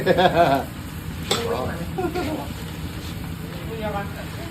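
Frogs sizzle and are stir-fried in a small hot pan, with scraping bursts of activity while people talk over the frying.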